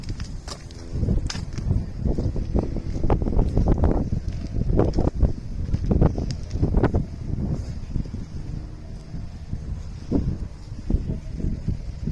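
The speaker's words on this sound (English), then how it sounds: "it is a bit windy today" Gusty wind buffets the microphone outdoors at Butlins Bognor Regis, with irregular rumbling bursts and rustling throughout, loud and close.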